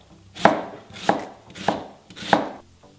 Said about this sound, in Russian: Первым делом нарежем лук.